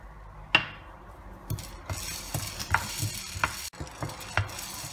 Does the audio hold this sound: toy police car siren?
no